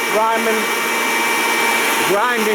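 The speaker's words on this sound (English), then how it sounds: "You ask why I'm grinding crumbles" A grinder loudly milling crumble feed for quail, producing a steady, close whirring roar while a voice speaks over it.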